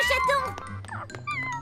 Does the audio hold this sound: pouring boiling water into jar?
no